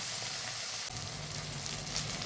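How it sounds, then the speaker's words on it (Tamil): Tomatoes sautéing in oil in a pan for rajma gravy, a soft steady sizzle heard close with faint stirring and no voices. "தக்காளியை நல்லா வதக்கி விட்டுக்கலாம்"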